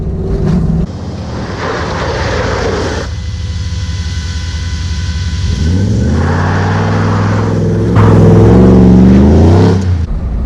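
A restored and modified Ford Bronco with Wilwood brakes driving on the road, its engine rising and falling through gear changes under wind and tire roar, with a heavy deceleration as it slows hard.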